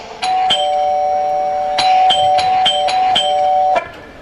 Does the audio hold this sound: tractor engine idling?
no